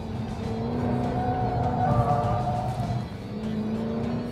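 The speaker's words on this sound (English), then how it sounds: "The mad character of this car and the way it sounds. Pops and crackles on shifts" Jaguar F-Type Coupé engine growling steadily at close range, a dense low rumble that swells briefly in the middle before easing; the crackle on shifts is not distinct.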